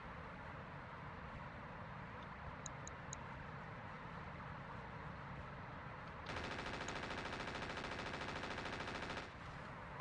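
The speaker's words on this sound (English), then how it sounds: "That was a machine gun right there." Machine gun fire in the video game RogueTech: a rapid, steady burst of automatic fire rattles for about three seconds over a constant low mechanical hum, with a few faint ticks before it.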